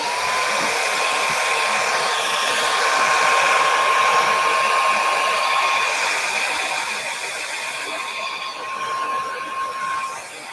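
A hair dryer blows steadily and loudly for several seconds, drying texture paint on a handmade butterfly craft journal, with a whining tone and rushing air that dips near the end.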